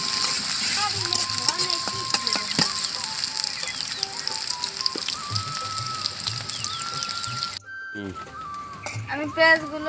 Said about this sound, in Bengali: পরিমাণ মতো তেল দিয়ে পেঁয়াজটাকে বাদামি রং করে ভেজে নেব